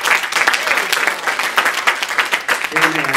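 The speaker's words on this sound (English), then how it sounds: "Let's give the Lord a hand clap of praise" A church congregation claps in praise, a dense, steady wall of hand claps lasting throughout, with a few voices and sustained tones rising through it.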